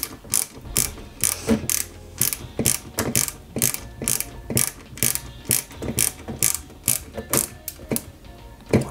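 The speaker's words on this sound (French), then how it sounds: "Et j'y mets 2 vis donc à l'arrière," A small screwdriver turns screws into the rear of a Peugeot 205 GTI 1.9 die-cast model kit, producing a regular ratcheting click repeated in quick close bursts, crisp and mechanical, with no voices.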